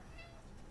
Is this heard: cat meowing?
yes